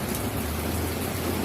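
Steady, dense rain patters down continuously, a broad even hiss with no voices.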